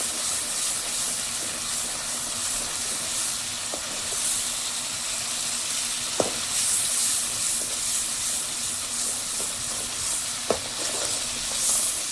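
Masala spices fry in hot oil in a pan with a constant close hiss and sizzle, punctuated by a few faint clinks and scrapes of stirring, with no talking.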